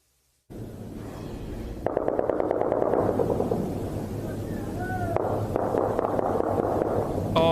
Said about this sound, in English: As the sounds of gunfire echo through Kabul